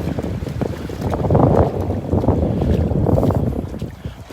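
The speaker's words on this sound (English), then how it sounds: "That's what makes it nice, is that breeze." A morning breeze on a beach at Delnor-Wiggins gusts across the microphone as a steady, rushing wind that swells and fades over a few seconds.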